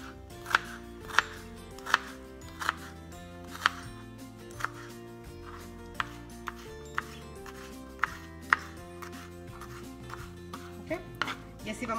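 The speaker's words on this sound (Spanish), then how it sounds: "Y así vamos a seguir cortando el resto de la cebolla, de esta manera" A knife chops an onion into small squares on a cutting board, producing a steady run of crisp taps roughly every half second or so, close up, with a low background hum.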